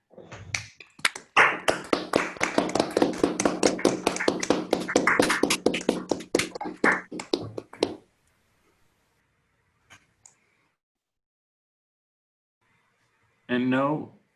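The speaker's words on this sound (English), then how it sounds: "you can now all clap to thank Amina" An audience at an academic talk applauding the speaker Amina, with brisk, dense clapping for about eight seconds that stops abruptly into near silence before a voice briefly speaks.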